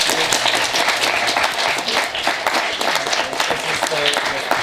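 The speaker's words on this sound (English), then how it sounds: "we'll give him a big round of applause." An audience claps continuously in a loud, dense burst of applause, with voices mixed in.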